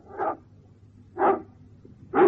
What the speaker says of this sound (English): Canine conversation.